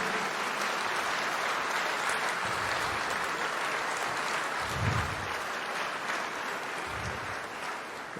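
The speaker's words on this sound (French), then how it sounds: "je pense qu'on peut encore les applaudir vraiment de ce rendez-vous" An audience applauds a wind band at the close of a concert, steady dense clapping heard from a distance at moderate volume, with a few low thumps underneath.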